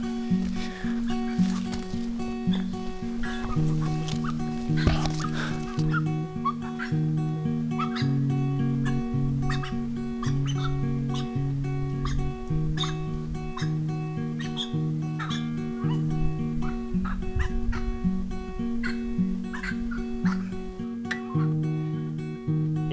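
Cormorants calling at a nesting colony in the Everglades, a busy chorus of repeated low grunting and croaking calls from many birds, overlapping at a steady pace near and far with sharper chirps scattered through.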